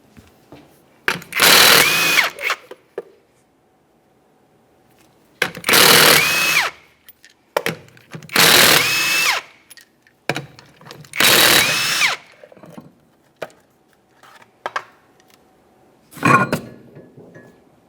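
Impact gun spinning off 19mm lug nuts from the rear wheel of a 1994-1997 Honda Accord, five loud separate bursts of a second or so each, with quiet gaps and small clanks between them.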